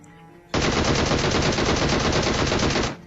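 Sustained automatic gunfire in a video game erupts after a brief quiet moment, a rapid unbroken burst of shots lasting a couple of seconds before cutting off abruptly.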